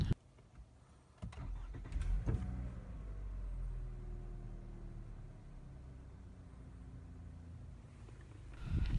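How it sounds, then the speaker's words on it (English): A 2017 Toyota Camry engine idles steadily after a key start, a low continuous hum with harmonic tones, preceded by a few short clicks and a brief louder rev near the start. "The engine continues to work."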